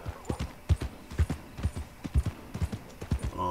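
Horse hooves clip-clop steadily at a riding pace in the video game Red Dead Redemption II, a close, even rhythm of distinct hoofbeats with no talking over them.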